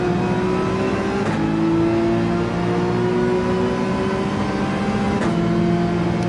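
A Porsche 911 in Gran Turismo 7 revs hard on the Nürburgring, its engine note climbing steadily through each gear with two quick shift breaks, loud and close throughout.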